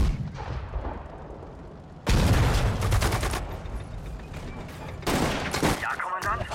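Battlefield gunfire in the WWII strategy game Sudden Strike 4: dense rifle and machine-gun volleys with heavy artillery blasts. The firing grows sharply louder partway through and stays intense and continuous.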